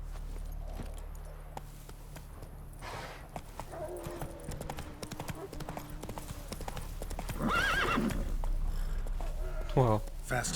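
Roach, the horse in The Witcher 3, gallops with fast rhythmic hoofbeats that continue throughout, then breaks into a loud whinny near the end, with game music, and a voice briefly speaks over it.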